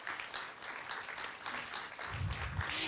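Audience applause at a NASA mission briefing for the Parker Solar Probe launch, a steady wash of clapping from a room of people, moderately faint and continuous throughout.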